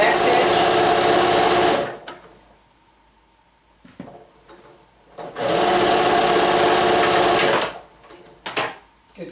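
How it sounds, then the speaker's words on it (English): A sewing machine back-stitches a tee-shirt fabric mask in two loud, steady runs of rapid motor chatter lasting a couple of seconds each, with quieter pauses between them where a person talks. "I'm going to drop my needle down. I'm going to go ahead and do the back stitch."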